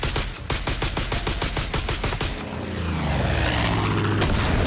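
A fixed-wing aircraft in Far Cry 5 drones loudly and steadily while a rapid burst of gunfire crackles in regular shots over the first half, then the engine roar carries on alone.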